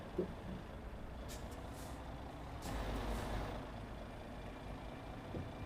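MAN TGX truck in the Euro Truck Simulator 2 game maneuvering through narrow Paris streets, its engine idling low and steady, with a brief hiss of air brakes and a swell of engine noise midway.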